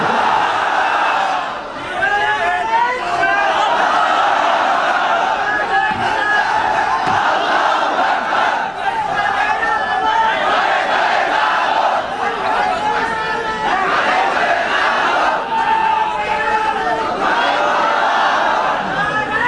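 A large crowd at an Islamic tafsir sermon gathering chants the takbir together in loud rising waves of voices that go on through the whole stretch.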